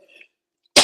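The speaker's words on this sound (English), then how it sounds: "Sorry for my cough." A single loud, sharp cough from someone speaking about a Biafra declaration, bursting suddenly near the end after a faint, quiet stretch.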